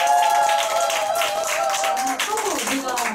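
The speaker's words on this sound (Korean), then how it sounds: "박수 부탁드리겠습니다" Scattered clapping from a group at a company meeting, brief and moderately close, mixed with voices and other room sound.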